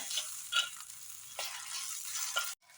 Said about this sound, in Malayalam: പിന്നെ ഉള്ളി ഇതൊന്ന് ഒന്ന് വാടി വരണം കേട്ടോ